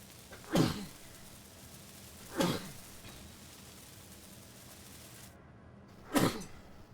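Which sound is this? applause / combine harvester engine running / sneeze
sneeze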